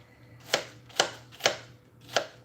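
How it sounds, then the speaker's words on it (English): A knife slices thin tomato slices on a cutting board, four crisp, evenly spaced chops in a quiet kitchen, close and fairly soft. "So here, we're just slicing these thin."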